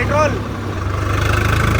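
A Swaraj 855 tractor engine runs at high RPM, around 2100, with a steady mid-pitched drone throughout. Someone talks loudly over it.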